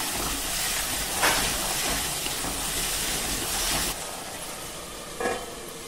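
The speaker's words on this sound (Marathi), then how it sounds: "मिक्सरच्या भांड्यातलं पाणी आपण टाकूया आणि छान परतून घेऊया" Water from the blender jar hissing and sizzling in a hot pan with roasted cumin powder as it is sautéed. A steady close steam hiss is broken by a few soft stirring knocks.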